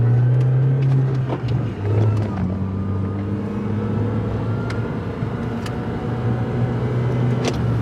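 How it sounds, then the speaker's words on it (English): A car engine hums steadily at close range, a low droning tone shifting slightly in pitch, with faint clicks and street noise around it. "Now you should be able to hear this car."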